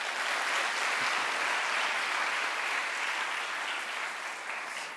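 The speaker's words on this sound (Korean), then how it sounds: "나오실 때 박수로 환영하십시다." A chapel congregation applauds to welcome a preacher, with dense, sustained clapping from many hands that holds steady for several seconds before easing slightly at the end.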